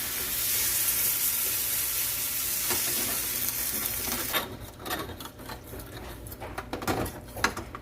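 Beef stock sizzling and bubbling in a hot brisket pan while the bottom is scraped, a loud steady sizzle for several seconds that gives way to quieter crackles and intermittent scraping clicks.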